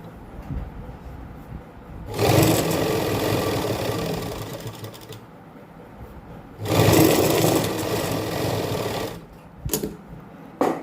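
A sewing machine stitches lace onto a dupatta in two long bursts of rapid, steady running, then a few short jabs, separated by near-silent pauses.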